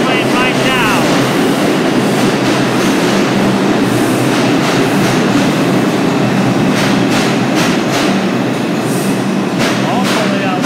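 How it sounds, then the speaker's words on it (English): A New York subway 5 Express train, R142A, roars loudly into 138th Street-Grand Concourse station, wheels rumbling and clattering continuously, with brief metallic squeals and a voice faintly audible amid the noise. "Here comes East Chester Dyer Avenue bound 5 Express train right now."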